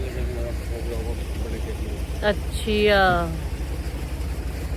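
A tube well water pump runs in a farm field as a steady low mechanical hum, with people talking over it.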